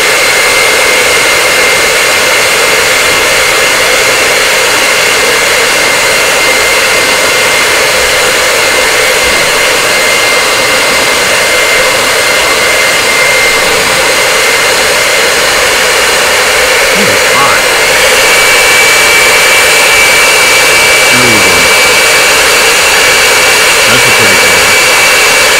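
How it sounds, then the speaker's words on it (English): A hair dryer blows continuously and loudly to dry paint on a garden gate, a steady roaring whoosh that runs unbroken throughout. "Hair dryer."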